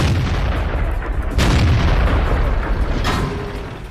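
A German VK 36.01(H) tier 6 medium tank fires premium rounds in World of Tanks, with heavy cannon booms, one loud blast near the middle and another just after, over a continuous rumbling game background.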